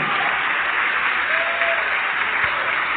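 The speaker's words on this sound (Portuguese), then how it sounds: "vamos aplaudir o Senhor Jesus" Church congregation applauding during a worship service, a continuous even wash of clapping heard at steady moderate volume with no pauses.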